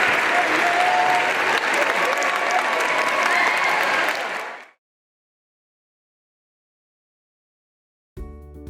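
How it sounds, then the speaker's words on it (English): Audience applause on a live talk show, steady for about four seconds before cutting abruptly to silence, followed by the brief start of a different sound near the end. "One round of applause."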